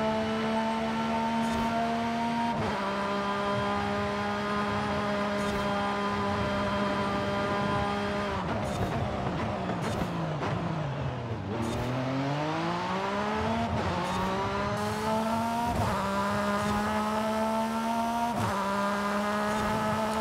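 Porsche 911 GT3 R race car engine in Forza Horizon 5, a steady high-pitched droning whine that holds, shifts gear, dips sharply in revs around a corner and climbs again, loud and close with no talk.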